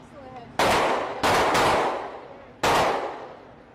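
Full-auto gun firing at an outdoor gun range: four sharp loud bursts, the first, second and fourth each followed by a long decaying ring, the third coming close after the second.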